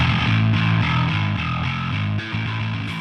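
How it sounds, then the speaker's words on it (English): Heavily distorted metal bass programmed via MIDI in the EZbass plugin, for a heavy metal song in E standard tuning, grinding out loud continuous palm-muted riffs with a gritty, guitar-like tone and a brief drop near the end. "Here is the bass I've got for this song we've been working on."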